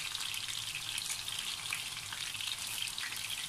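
Chicken wings frying in cooking oil in a pan, a dense, even crackling sizzle that runs steadily and close throughout without any voices.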